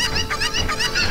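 A Cucco chicken squawks in the video game Ocarina of Time, a rapid series of nasal, honking clucks repeating steadily and loud, with no talking.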